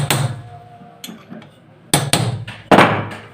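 Light hammer taps on a nut at the wheel of a sewing machine, jammed by thread, ring out as separate sharp metallic knocks at irregular intervals, some single and some in quick pairs, close and clear.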